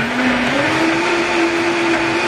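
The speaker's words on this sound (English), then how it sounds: "Put that in your blender with half a cup of water and blend it all together." A kitchen blender runs steadily, blending banana, oats and water into pancake batter, loud and close, with a constant motor whine and no talk.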